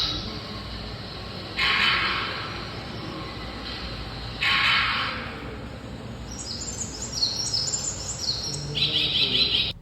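Recorded bird calls played through speakers in an eco-tourism centre's audio-visual room: bright chirping bursts repeating at intervals, then a run of quick tweets over a steady low hum of room noise.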